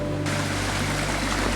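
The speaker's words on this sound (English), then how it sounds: "Little creek outlet right here." A small creek outlet flows in a New Zealand forest, giving a steady close rush and trickle of water that lasts the whole short moment.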